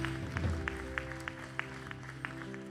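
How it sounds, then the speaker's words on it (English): A church congregation claps in a steady rhythm, about ten sharp hand claps spaced evenly over a sustained organ or keyboard chord, moderately near. "Give the Lord a hand clap."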